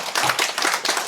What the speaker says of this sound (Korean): 박수를 한번